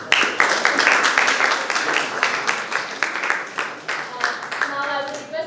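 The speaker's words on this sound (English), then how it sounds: "Please give a round of applause for him." Audience applause for a panelist at a conference on AI and language, a dense patter of many hands clapping steadily for several seconds, fairly loud and close, with a voice coming in near the end.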